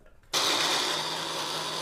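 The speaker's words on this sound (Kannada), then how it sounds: "ಇಷ್ಟು ಐಟಮ್ಸ್ನ ನಾನು ಗ್ರೈಂಡ್ ಮಾಡ್ಕೊತೀನಿ" Mixer grinder blending cashews, ginger and garlic kicks on abruptly after a short quiet moment, then whirs loudly and steadily with a high-pitched motor whine.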